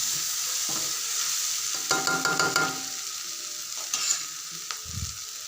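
Frying in a pan with a steady low sizzle, punctuated by a burst of clattering stirs and a few later scrapes, close and alone without speech.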